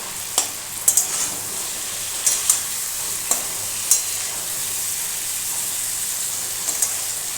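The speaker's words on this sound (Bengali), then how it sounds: "এটাকে এবার আমি খুব ভালো করে কষিয়ে নেব।" Vegetable masala with melted tomatoes for a ridge gourd curry sautés in a pan, giving a steady close sizzle with occasional sharp clinks of a spatula stirring against the pan, no voices.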